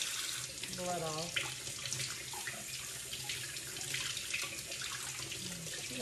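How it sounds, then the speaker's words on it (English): Tap water runs steadily while blood is rinsed off a squirrel carcass, a continuous close splashing stream with small shifts as the water hits the meat. "Try to wash some of this blood off."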